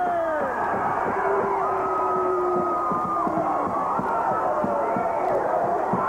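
A large wrestling arena crowd in Portland cheers and roars continuously, a dense wall of voices with whoops and whistles rising over it. The noise stays loud and steady throughout.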